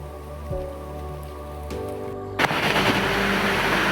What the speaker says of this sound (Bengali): প্রচন্ড বৃষ্টি হইতেছে,